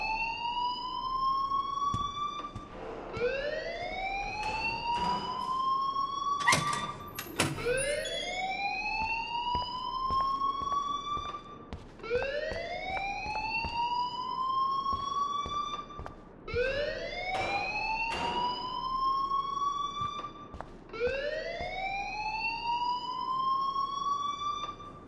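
A wailing electronic alarm in the video game Life is Strange sounds inside a school, rising sweeps repeating roughly every four to five seconds with sharp clicks and bangs between them, fairly quiet and steady throughout.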